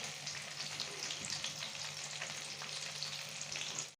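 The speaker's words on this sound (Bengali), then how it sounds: "এবার এটাকে হালকা ভাজা ভাজা করব।" Onion cubes frying in oil with ginger and garlic, a soft, even crackling sizzle that is close but fairly quiet, steady throughout with faint stirring and no talk, cutting off at the end.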